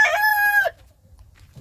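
A proud rooster, father of newly hatched chicks, lets out one loud, close crow lasting under a second, followed by near silence with faint low background noise.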